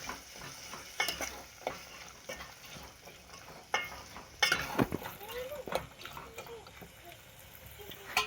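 Spoon stirring chana gravy mixture in a pan, with soft sizzling and repeated scraping and clinking strokes in an irregular rhythm, heard up close.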